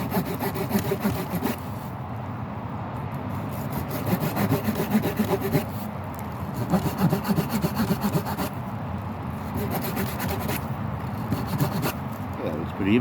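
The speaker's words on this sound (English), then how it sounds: "holding securely to the wood that you were cutting" Wood is sawn by hand to cut notches, a rhythmic rasping stroke repeated steadily at close range, with talk heard underneath.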